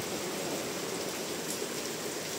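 Steady rain pours down outdoors near a solar submersible pump in a rice-field area of Nueva Ecija, an even, dense hiss filling the whole clip with no gaps.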